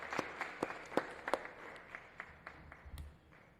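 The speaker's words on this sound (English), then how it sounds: "So round of applause to our city employees and all of their hard efforts." Scattered clapping from a small crowd at a city Board of Aldermen meeting, a brief round of applause in a council chamber that starts with a few sharp claps and thins out to sparse, quieter claps.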